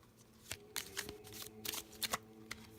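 Playing or tarot cards are drawn from a deck and set down on a table, giving a series of soft papery flicks and slides at irregular intervals, close and fairly quiet.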